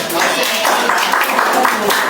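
A group claps hands in a practicum session, short uneven bursts of applause mixed with people talking close by.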